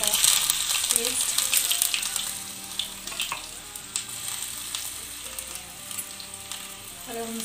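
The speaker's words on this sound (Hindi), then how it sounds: "ये डाल दिया धनिया, जीरा और ये अदरक लहसुन का पेस्ट." Coriander, cumin and ginger-garlic paste sizzle and fry in a hot pan while samosa filling is prepared at home, a steady close crackle with faint clinks and kitchen clatter throughout.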